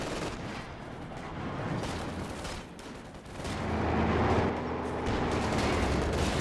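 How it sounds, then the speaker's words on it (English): Stuart and Panzer IV tanks trade cannon fire in the Company of Heroes 2 strategy game, with booming shots and crackling gunfire over a dense battlefield rumble that swells louder in the second half, no voices. "Stuart versus Panzer IV. Oh, both of them missed their shots."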